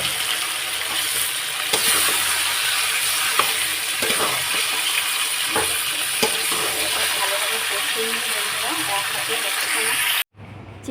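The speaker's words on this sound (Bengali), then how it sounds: "সকালবেলা চিকেনটা ভেজে দিলাম।" Chicken frying in a pan, a loud, continuous hiss and crackle with scattered spatula taps, running steadily before cutting off abruptly at the end.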